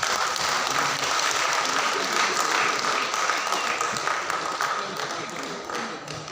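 An audience at a folk dance performance event applauds a Swamiji with dense, sustained clapping that gradually fades toward the end.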